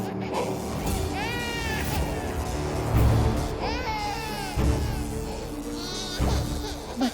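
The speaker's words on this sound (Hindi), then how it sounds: "बच्चे की रोने की आवाज" An infant cries in a domestic setting, several wavering high wails separated by short pauses, loud and close, with no talk over it.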